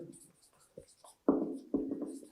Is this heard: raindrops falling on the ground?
no